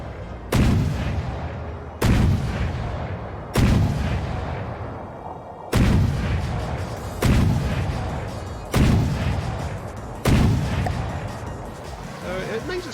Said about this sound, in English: They've changed the gun sound so much right now.